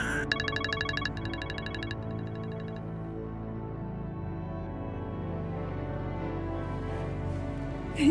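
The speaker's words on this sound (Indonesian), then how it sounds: "Aku bisa telepon Aisyah di sini." A phone ringtone trills in short repeated bursts at the start, then fades out, leaving a quiet indoor hum for a TV drama scene. A faint sound rises at the end.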